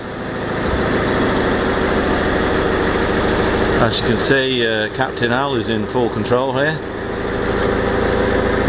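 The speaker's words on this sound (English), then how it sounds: "The boat actually started this time, no problem." A boat engine runs loud and steady on a river, with a continuous droning hum, while someone talks over it midway.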